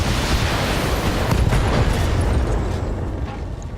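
Mech unloading its full weapon complement in the BattleTech video game, a dense rumbling barrage of booming blasts and bursts sustained loud for several seconds.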